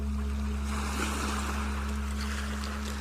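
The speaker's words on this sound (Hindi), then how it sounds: "सागर के पानी की आवाज, उछलते मोजे आपको बहुत आनंद दे रहे हैं।" Ocean waves wash steadily onto the seashore, a continuous broad rush of surf with a low steady hum underneath and no voices.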